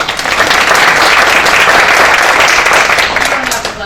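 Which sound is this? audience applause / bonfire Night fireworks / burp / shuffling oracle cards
audience applause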